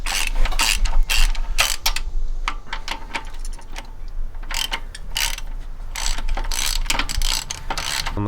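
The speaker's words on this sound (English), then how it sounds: "Where's my midget ratchet?" Small midget ratchet working on a Jeep TJ oil pan during rear main seal work, rapid close clicking in uneven bursts with brief pauses and light metallic clinks, no talk.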